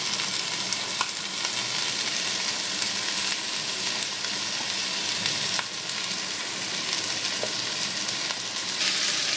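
Ivy gourd fries in a pan with salt and turmeric, producing a loud, continuous close-up sizzle with occasional faint stirring scrapes throughout.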